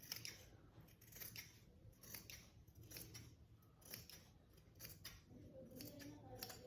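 Scissors cut fabric for a frock suit sleeve, a quiet string of close, crisp snips at a steady rhythm, with no one speaking.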